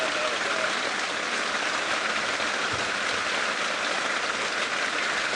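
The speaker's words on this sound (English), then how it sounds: "You can hear I'm actually trying to shout because of how much it's raining." Torrential rain lashes a safari game drive, a steady, loud hiss of drops drumming on nearby surfaces that persists without pause.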